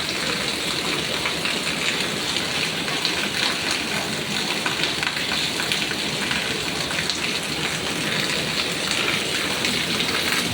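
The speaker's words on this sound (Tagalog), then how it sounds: "malakas po ang ulan" Heavy rain pours steadily, a dense, continuous rushing hiss of drops hitting surfaces close by, with no pauses or voices.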